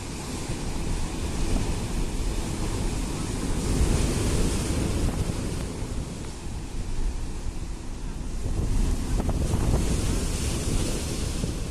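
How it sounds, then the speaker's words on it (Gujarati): Rough sea at the Mangrol coast, with waves reported at 10 to 12 feet high, roars in continuous surf and crashing swells, loud and near under heavy wind buffeting the microphone. "માંગરોળના દરિયામાં 10 થી 12 ફૂટ ઊંચા મોજા ઉછળ્યા."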